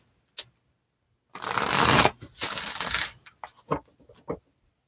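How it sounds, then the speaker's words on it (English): Tarot card decks are shuffled by hand in a few bursts: a sharp riffle, a long rattling shuffle, then several short crisp card flicks and taps, close and alone. "Just shuffle up the decks and wait for everyone to come back."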